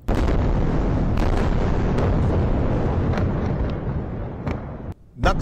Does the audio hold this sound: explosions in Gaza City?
yes